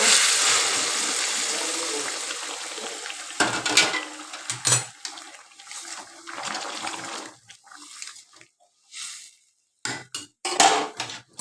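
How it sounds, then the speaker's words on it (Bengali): Hot water poured from a vessel into a pan of fried potatoes: a gushing, splashing rush that breaks into shorter sputters and trickles, mixed with clanks of pots, close by. "আমি গরম জলটা ঢেলে দেবো"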